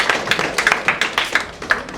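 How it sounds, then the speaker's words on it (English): Audience clapping for Professor Zia at a Women's Day celebration, a brisk run of sharp claps close by with an uneven rhythm, no speech over it. "please appreciate the British Council and Professor Zia especially, and please clap for him"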